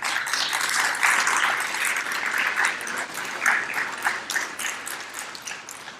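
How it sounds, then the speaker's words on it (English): A crowd applauds steadily, dense clapping rising and falling slightly in intensity for several seconds with no voices over it. "Let's give him another round of applause"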